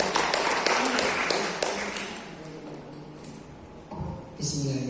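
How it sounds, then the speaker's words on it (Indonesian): Workshop audience applauding at a digital marketing event for small businesses in a regent's official residence, a burst of dense clapping that fades over a few seconds before a voice and a brief swell return. "Berikan tepuk tangan yang pertama."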